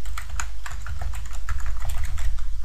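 Steady, fast typing on a computer keyboard with closely spaced key clicks, loud and near, running alone without speech.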